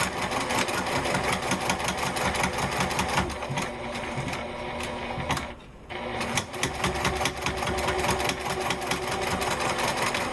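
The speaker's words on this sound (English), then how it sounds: "So I'm just stitching down that right hand side" A sewing machine runs continuously while stitching along the edge of a wallet. Its fast, even mechanical chatter stays steady and close, with a brief dip near the middle before it resumes at full speed.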